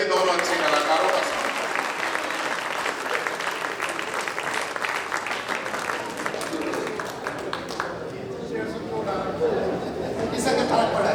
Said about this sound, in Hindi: थोड़ी तालियां बजा दीजिए दोनों अच्छे कलाकारों का